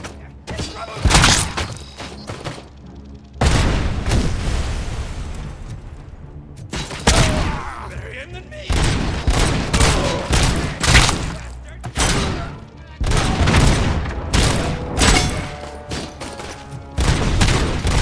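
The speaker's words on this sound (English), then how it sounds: "they're throwing grenades" Grenade explosions and bursts of gunfire in the Robocop Rogue City video game, a loud barrage of booms, thuds and rapid shots that keep coming in dense clusters across the whole stretch.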